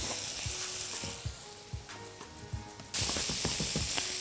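Chickpeas dropped into a hot pan for chana bhaji, giving a loud rising sizzle and crackle of frying with a few scraping stirs, close up and without talk.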